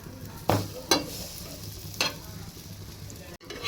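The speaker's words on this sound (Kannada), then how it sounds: "ಇವನ್ನ ಈ ರೀತಿ ಸ್ವಲ್ಪ ಸ್ವಲ್ಪ ಎಣ್ಣೆ ಹಾಕ್ಕೊಂಡು ಇವನ್ನ ಚಲೋ ಹೊತ್ನಾಗೆ ಬೇಯಿಸ್ಕೊಂಬಿಡೋಣ ರೀ" Snacks fry in a little oil in a pan, with a soft steady sizzle and a few sharp clinks of stirring or turning, close and without talk.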